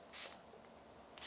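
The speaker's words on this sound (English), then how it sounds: "I haven't got any of the misting spray on this yet" Misting spray hits a product set up for a macro commercial shoot at home: two short, bright hissing bursts, one at the start and one at the end, close and crisp, with quiet room noise between.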